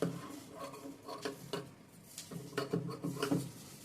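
Scissors trim excess cloth at the shoulder of a chudi top, making a run of soft, irregular clicking snips up close, some louder and clustered toward the end, with no talk.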